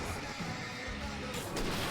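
Dense, continuous gunfire and crashing noise from the video game Alan Wake, loud and steady across the whole stretch, with almost no speech.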